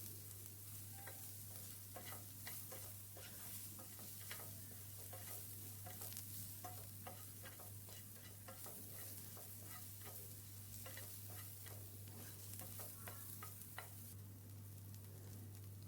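Soybeans fry with salt and turmeric in a pan, giving a steady sizzle with repeated scraping and stirring strokes throughout, over a constant low hum.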